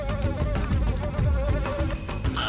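A dense swarm of bees in the video game TimeSplitters 2 buzzes loudly and continuously, the droning layered and wavering in pitch, with no voices.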